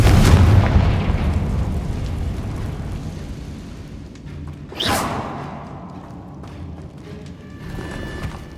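A Confringo blasting curse in Hogwarts Legacy goes off as a loud boom with a rushing burst, after heavy rumbling combat noise and ahead of lingering crackle and debris in the background.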